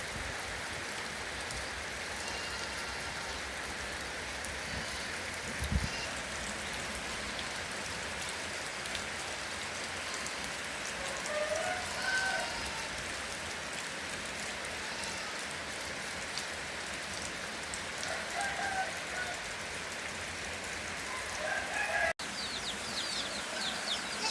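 Steady rain falling and pattering on surfaces behind a house in Laos, a constant even hiss, with faint chicken sounds now and then in the background.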